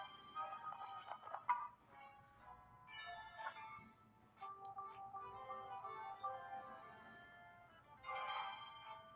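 Electronic jingles and chiming melodies from an 88 Fortunes slot machine game ring out continuously at a moderate level, with bursts of bright tones rising and falling.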